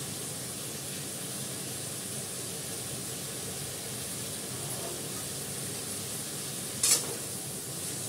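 Water splashed into a hot frying pan gives a steady, close hiss of sizzling, with a short louder burst of spattering near the end.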